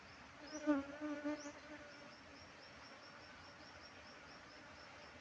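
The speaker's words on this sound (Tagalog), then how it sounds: "At ang dami pang bubuyog sa labas." A swarm of honeybees buzzes steadily outdoors around a hive box, a dense close hum with a few louder passes near the start, no talk.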